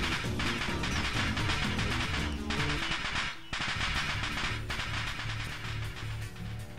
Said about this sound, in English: a sound like firecrackers resounds from the other side of the door. A dust explosion.